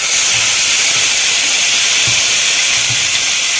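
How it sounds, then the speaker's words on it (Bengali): Ginger and dried red chili paste hits hot oil, giving a loud, dense, steady hiss of sizzling that fills the short moment without any talk. "এবার দিয়ে দেবো আদা শুকনো লঙ্কা বাটা,"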